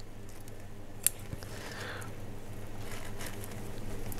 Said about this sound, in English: Here we have more old roots. Let's just cut them off.